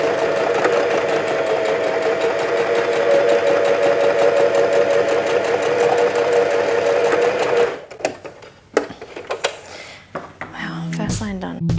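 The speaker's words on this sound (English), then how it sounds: "Is the machine on? No." A sewing machine runs steadily while stitching a vest seam, a loud close rapid whir for about eight seconds. It then stops and leaves scattered handling clatter and rustling.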